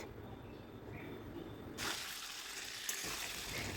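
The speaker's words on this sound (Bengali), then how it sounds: "তেল গরম হয়ে গেলে গরম তেলের মধ্যে দিয়ে দিচ্ছি পটলগুলো" Pointed gourd pieces drop into hot mustard oil and frying begins, a faint hiss that suddenly swells into a loud, bright, steady sizzle with a small clatter partway through.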